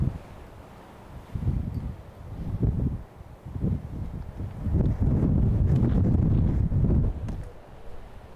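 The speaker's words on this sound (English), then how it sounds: "It's crazy, this wind." Strong wind gusts at Gold Coast Airport buffet the microphone, giving a deep rumbling roar that swells and dips in waves, loudest through the middle, with no talking.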